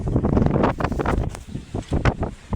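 Strong gusty wind during a storm buffets the microphone with uneven rumbling bursts and rustling, loud and close throughout.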